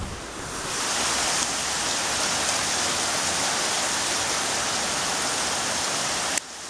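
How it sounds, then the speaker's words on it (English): Heavy afternoon rain in South Florida pours down steadily as a dense, even hiss that fills the whole clip, loud and unbroken, with no voices. "It doesn't even show up on the camera that it's like raining."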